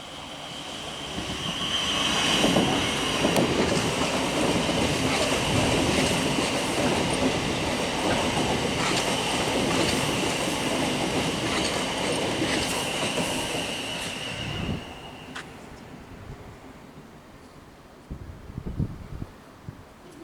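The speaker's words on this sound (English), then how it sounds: "One of those nice fancy looking Class 700 trains." A Class 700 passenger train passes close by a level crossing with a loud rushing roar and rail clatter, fading out near the end, followed by a few faint thumps.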